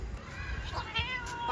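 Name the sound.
cat meowing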